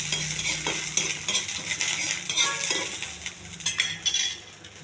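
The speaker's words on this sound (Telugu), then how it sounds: "కొన్ని ఆవాలు, జీలకర్ర, కొన్ని ఆవాలు, శనగపప్పు. తాలింపు అంతా గిన్నెలో పెట్టుకోవాలండి." Mustard seeds, cumin and chana dal crackle and sizzle as a tempering in hot oil, with steady spoon stirring and scraping against the pan and small clinks, close and fairly loud.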